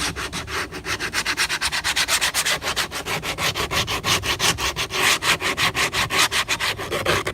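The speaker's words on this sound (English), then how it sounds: "I'll try hand sanding it first" Hand sanding rough plastic edges on a homemade beach scoop, a steady run of quick, rhythmic back-and-forth rasping strokes, close and fairly loud, with no talking.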